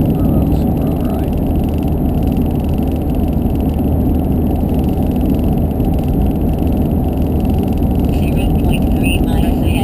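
A Cummins diesel truck with a stock exhaust cruising on the highway in sixth gear, giving a steady low engine drone and road rumble throughout with no change in pace.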